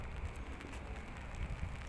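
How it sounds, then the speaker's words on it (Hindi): Rain beginning to fall over La Défense in Paris, among glass-and-steel towers near the Grande Arche, heard as a steady wash of patter and hiss on hard outdoor surfaces with a low rumble of background noise underneath. "ये देखें जी, बारिश शुरू हो गई है।"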